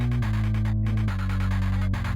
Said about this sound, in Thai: อันนี้คือเสียงเดิมนะครับเสียงเดิมของเวนด้านั่นเอง